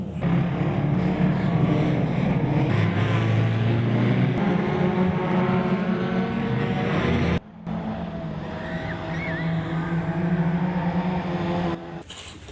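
Race cars going round Ringwood Raceway, a loud continuous roar of engines from nearby that drops briefly partway through and then carries on at a slightly lower level.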